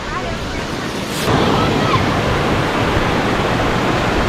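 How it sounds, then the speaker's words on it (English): Broad, steady roar of a waterfall heard near its base on a jungle trek in Tenkasi, loud and continuous, swelling slightly stronger after the first second with no talk over it. "we are almost at the base of the waterfall"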